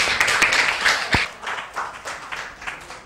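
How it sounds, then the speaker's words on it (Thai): Students in a Thai classroom clapping for classmates: a short burst of scattered hand claps from a small group, fairly close, thinning out toward the end. "ปรบมือเพื่อนด้วย"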